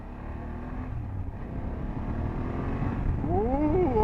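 A 2024 BMW F800GS motorcycle accelerates in dynamic mode, its engine note rising steadily and growing louder, then climbing and dipping through several quick revs close by.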